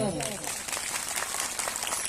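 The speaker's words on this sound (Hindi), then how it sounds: "और तालियां बजाएं एक बार जोरदार।" Audience clapping loudly at a spiritual discourse gathering, a dense continuous patter of many hands sustained throughout, close and steady with some voices mixed in.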